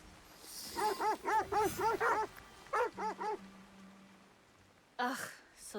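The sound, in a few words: dog whimpering, from video game Assassin's Creed Shadows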